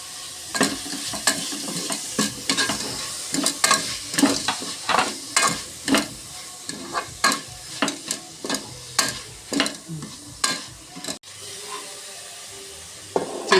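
Crushed green chillies and tomato fry for cooker biryani, a close sizzle broken by regular scraping stirs of a spoon against the pot, roughly one every half second.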